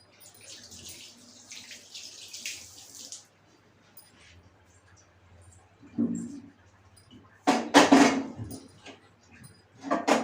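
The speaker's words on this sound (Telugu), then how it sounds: "ఫస్ట్ ఈ కొద్దిగా కడుక్కుందాం ఒక పెన్నం." Tap water runs over a dosa pan being rinsed at a kitchen sink, a hissing stream at first, then splashes and scrubbing clatter growing louder later, heard up close without speech.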